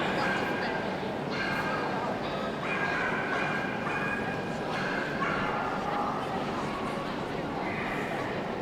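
Dogs at a dog show judging the utility group, yipping and whimpering in a busy hall with crowd noise and voices underneath throughout.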